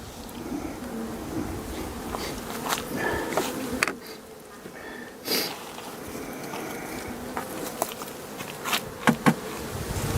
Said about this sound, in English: the bee decided to come and pay a visit and see how she was getting on